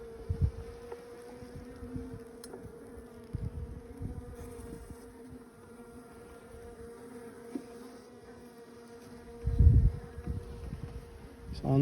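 Bees buzz steadily around an open beehive frame outdoors, a continuous low drone close by, with occasional handling knocks and a louder rustle near the end.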